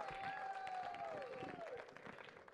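Applause from an audience at a Kannada film title and teaser launch event, steady dense clapping heard fairly faintly, with a faint voice briefly over it near the start.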